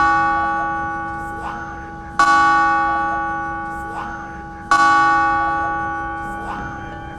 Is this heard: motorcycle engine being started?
no